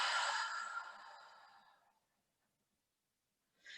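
A slow, deep breath is exhaled through the mouth during gentle yoga, one long airy sigh near the listener that fades out over two seconds, followed by silence and the start of a soft inhale.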